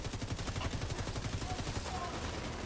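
Automated turret firing in the shooter game The Division, a rapid continuous rattle of gunfire in steady bursts at moderate volume.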